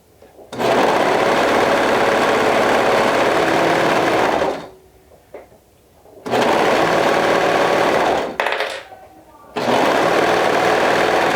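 Home sewing machine stitching binding onto a garment sleeve with a half-inch seam allowance, running loud and steady in three long bursts separated by brief pauses, close up.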